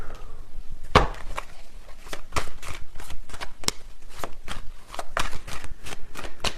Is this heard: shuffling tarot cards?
yes